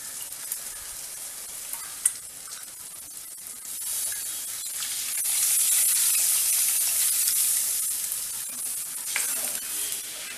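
Tamarind water goes into a simmering Chettinad vazhaipoo pakoda kuzhambu in a hot pan, bringing a loud sizzling hiss that swells midway, with scraping stirs and light clinks from the spoon.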